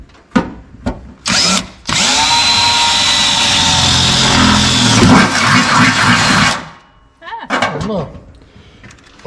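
A power drill bores holes into a metal bracket during an LS swap coolant reservoir mount, running in one loud, steady burst of about five seconds, with brief tool clicks and handling before and after.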